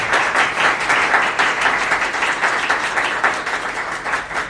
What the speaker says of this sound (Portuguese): As palmas do Senhor Jesus.